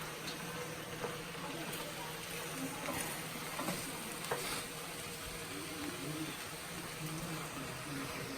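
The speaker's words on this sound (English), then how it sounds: "just kind of mix them around in there and let them just gently kind of fold them in" Sausage, shrimp and vegetables sizzle softly in a pan while being gently stirred and folded, with a quiet steady frying hiss and faint scraping stirs.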